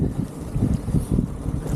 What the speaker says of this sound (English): Got this really strong cold wind at our backs.